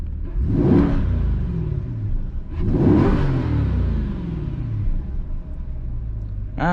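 A 2021 Chevrolet Corvette C8 engine and exhaust are revved twice, each a sharp loud rise and slow falling rumble, followed by a settled idle, close by with no voices.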